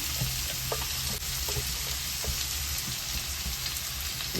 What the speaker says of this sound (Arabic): نقلب اللحمه ونعصجها. نزلت باللحمه على البصل.